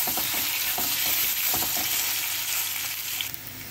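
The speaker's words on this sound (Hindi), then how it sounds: "अब इसको हल्के से थोड़ा भून लेना है मीडियम आंच पे।" Boiled, cut taro (arbi) pieces fry lightly in a pan over medium heat, a close, steady sizzle with several quick stirring scrapes, no voices.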